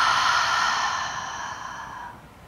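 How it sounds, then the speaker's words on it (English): A long, steady exhale pushed out through the mouth during a morning yoga flow, close and breathy, starting strong and slowly fading over a couple of seconds, with no talking. "Exhale all the air out through the mouth."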